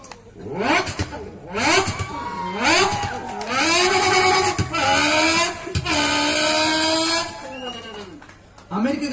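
A voice imitates a Lamborghini sports car engine. It gives repeated rising revs, loud and close, with sweeping pitch climbs and a sustained high wail, alone without talk.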